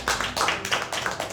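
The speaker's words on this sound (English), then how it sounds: "Let's give them a round of applause" A small group clapping for the judges, with steady brisk applause close by throughout and no talking over it.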